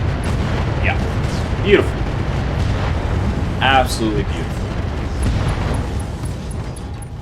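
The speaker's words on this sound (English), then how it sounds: "Hyper laser explosion." Laser explosions in the BattleTech RogueTech video game make a dense, continuous rumble with a few sharper blasts, while someone talks over the action.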